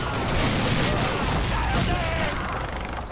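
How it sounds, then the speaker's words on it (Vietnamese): Rapid, loud machine gun fire from a 30-round weapon in Call of Duty, a dense unbroken volley of shots close up for about three seconds. "Nó là thuộc dòng súng máy ha"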